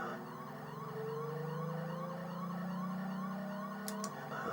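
A wailing police siren from the Amiga racing game F40 Pursuit Simulator rises and falls steadily over a constant engine drone, loud and continuous with no talk.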